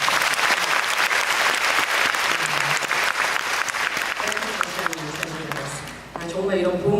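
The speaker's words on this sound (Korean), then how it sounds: "박수 한번 주세요." An audience at a talk concert breaks into loud, sustained applause, dense clapping that carries on for several seconds before tapering, with a voice speaking near the end.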